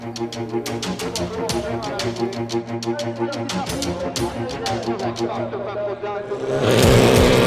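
Rallycross race cars roar through a junior final in Faleyras, engines revving and rising and falling in a dense, continuous loud rush, with a sharper burst of noise near the end.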